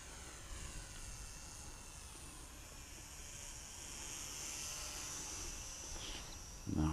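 A TOP RC Hobby SF260 RC model airplane makes a close flyby outdoors, its faint engine drone and buzzing whine holding steady across the pass, with a brief loud bump at the end.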